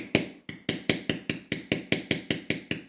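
A mallet strikes a leather tooling beveler again and again while beveling a twill weave pattern into leather, about a dozen sharp, evenly spaced taps close up at a steady rhythm, with no talking.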